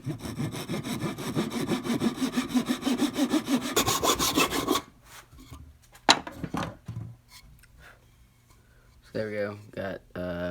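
A fine hand saw cuts tenon cheeks in wood for an English-style workbench, giving about five seconds of steady, rapid back-and-forth rasping. Quieter knocks and handling noises follow, then a brief voice near the end.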